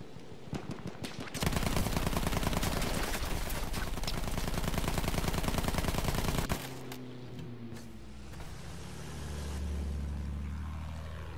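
Sustained machine gun fire erupts in an aerial combat video game, a dense rapid burst lasting about five seconds, followed by the drone of aircraft engines and propellers.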